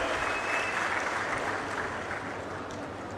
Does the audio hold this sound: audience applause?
yes